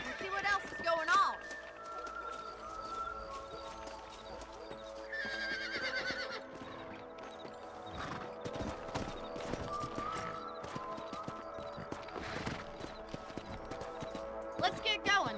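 Horses in the Red Dead Redemption video game: whinnies and neighs ring out over rhythmic hoof clip-clops, with game music and voices mixed in, moderately loud and busy.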